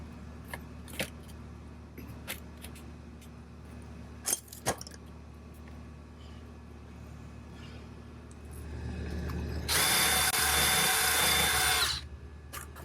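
A power drill runs in one sustained, loud burst of about two seconds as a screw goes into a dryer vent cover. Scattered clinks and small knocks come before it, and no one speaks.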